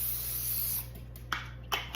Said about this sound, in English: we are going to spray our pan with cooking spray, non-stick spray